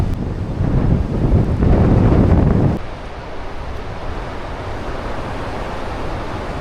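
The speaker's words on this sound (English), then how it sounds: "Just listening to the wind outside, it's ferocious, really." Ferocious wind buffets a tent on a remote Scottish island in winter, a loud roaring gust for nearly three seconds that drops to a steady, lower rumble, with no voices.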